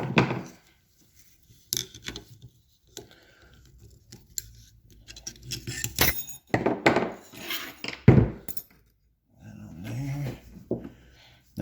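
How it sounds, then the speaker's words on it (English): Pliers snap a C-clip loose on a Corvette C5 T56 manual transmission main shaft, a few sharp metallic clicks and clinks among quiet handling noises, close and isolated. "So we'll grab the pliers and pop it loose."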